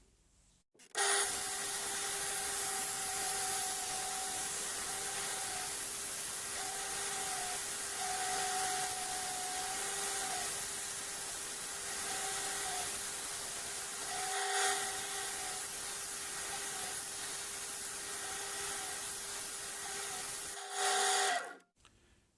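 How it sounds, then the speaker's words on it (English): Steady abrasive sanding with a 50 grit disc against wood spinning on a lathe, a continuous rough hiss over a machine hum, pausing briefly partway through before resuming and stopping. "I'm going to start sanding. I'm starting with a 50 grit disc"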